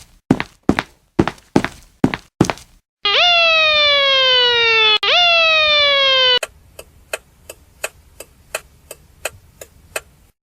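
A siren wails in rising, repeating sweeps for a few seconds, with sharp ticking clicks before it and regular ticks after.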